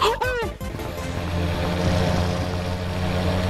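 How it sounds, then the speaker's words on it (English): A toy RC plane in Gorilla Tag buzzes with a steady, droning propeller whine that holds at an even level after a brief warbling start, with a voice talking over it. "Is this an RC plane?"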